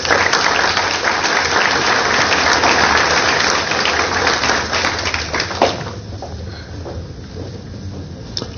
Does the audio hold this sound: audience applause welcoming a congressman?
yes